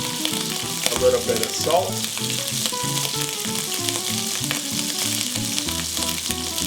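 Chicken pieces fry in a sauté pan of olive oil and butter, a steady close sizzle running throughout with light clinks and scrapes, while a voice talks quietly over it.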